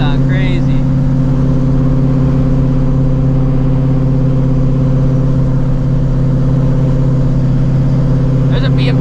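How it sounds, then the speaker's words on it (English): A Shelby GT350 with its exhaust race valve open drones loudly and steadily from inside the moving car, a deep, constant engine note filling the whole stretch with no words spoken. "I hear that race valve. Yes, sir. I hear that race valve. That shit sounds crazy"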